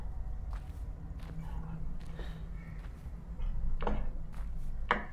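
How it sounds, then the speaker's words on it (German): Faint, irregular footsteps crunch along in the video game Through the Woods, soft scattered steps over a low ambient hum, growing slightly louder toward the end. "Ich höre Schritte."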